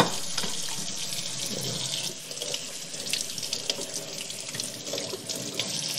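Tap water runs steadily into a sink while a whole Australian salmon is rinsed under it, a continuous close splashing rush with small uneven shifts as the fish moves through the stream.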